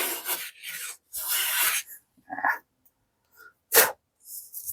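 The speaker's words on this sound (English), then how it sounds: "so there's a shaving from the Stanley" A Stanley No 4 hand plane takes wood shavings in several close, raspy strokes, some long and some short, with pauses between them and one sharp final pass.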